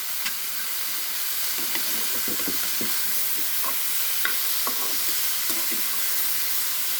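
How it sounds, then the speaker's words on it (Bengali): Drumstick and bitter gourd frying in a pan for a vegetarian dish, giving a steady soft sizzle and hiss with scattered light scraping clicks from stirring, fairly quiet and with no talking. "সবজিগুলো সুন্দর একটু ভেজে নিব, না হলে কাঁচা ঘ্রাণ বলবে"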